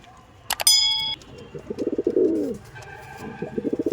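Andhra Madrasi pigeons in a loft give low throaty coos in short rolling bursts, close by, after a bright metallic clink near the start.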